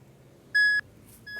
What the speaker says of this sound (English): Let's start our timer.